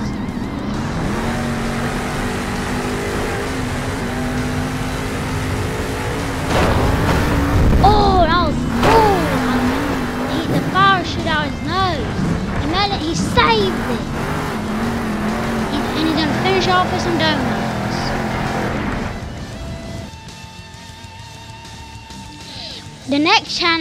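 A monster truck engine revs in a Monster Jam video game, with rising and falling whines and repeated throttle bursts over a rumbling engine bed, while a voice talks over much of it.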